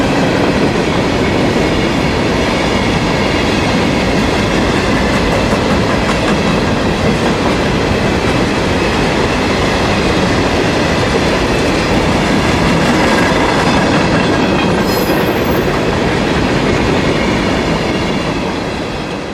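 CSX empty freight train led by EMD SD70ACe T4 locomotives, returning from Mosaic's New Wales phosphate plant in Florida's Bone Valley, rolls steadily past at close range, loud and continuous with rhythmic wheel clatter throughout.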